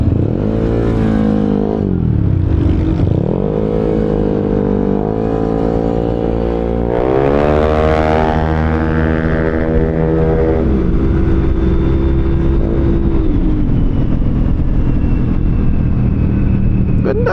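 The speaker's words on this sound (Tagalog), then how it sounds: "Kung medyo open yung exhaust mo, high RPM, medyo bubulahaw siya ng onte." A motorcycle engine with an open exhaust revs loudly at high RPM, climbing and falling in repeated pulls, then holding a steady roar close by, with no one speaking.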